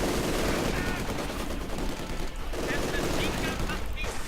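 Sustained machine-gun fire and other gunfire crackle through a Company of Heroes 2 1v1 battle, a dense continuous rattle of automatic bursts filling the whole stretch over a busy wartime game soundscape.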